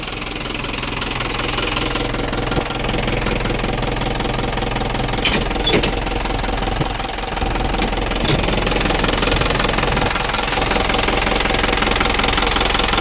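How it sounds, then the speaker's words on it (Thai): An Isuzu 4HG1 diesel engine runs steadily after starting, with a loud, close, even knocking idle chatter and constant vibration, and nobody speaks. "เครื่องนิ่มๆพี่น้อง เครื่องดีนะครับเครื่องดี"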